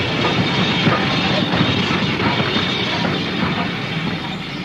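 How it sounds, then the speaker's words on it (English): A steam train running on a working heritage line, a loud continuous rolling rumble with faint rhythmic clatter of wheels on rails, steady throughout. "This is a working steam railway, serving a community"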